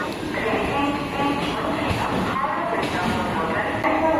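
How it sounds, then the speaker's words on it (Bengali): A local train on the Howrah to Nabadwip line pulls into a busy platform, its steady rumble and rail noise filling the scene at moderate loudness, with crowd chatter and voices mixed underneath throughout. "ওই যে আমাদের ট্রেন আসছে"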